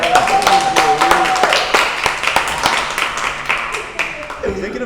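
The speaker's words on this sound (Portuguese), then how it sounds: "Palmas pro Guilherme." A group of people clap in scattered, uneven bursts through much of the span, with talk and some tonal vocal sounds running alongside the sharp hand claps.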